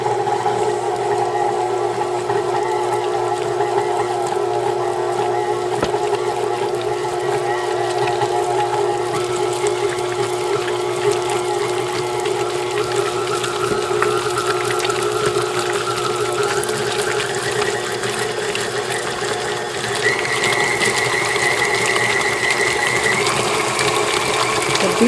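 An industrial-style electric beater mixes a block of cream cheese for a dill pickle and pimento cheese dip, giving a steady whirring mechanical hum whose pitch climbs in steps as the speed increases, with no talk.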